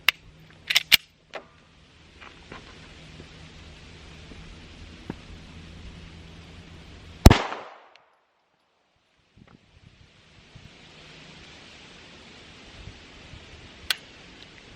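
A single sharp handgun shot cracks out loudly at an outdoor shooting range, standing alone amid faint ambient hiss and a few small clicks and taps before and after.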